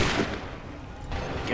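A musket volley in Assassin's Creed 3 cracks out as a dense burst of overlapping shots, loud and close at the start, fading into a rumbling tail before a second swell near the end.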